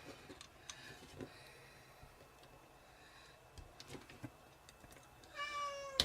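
A cat meows once near the end, a short bright call after quiet room noise with faint scattered clicks.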